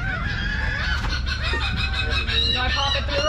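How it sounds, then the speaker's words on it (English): A noisy flock of seagulls squawks and cries all at once near a fishing boat, with overlapping calls stacked over a steady low rumble of engine or wind throughout. "I feel I need to show the audience what's making that racket. All the birds. Those are the noisemakers"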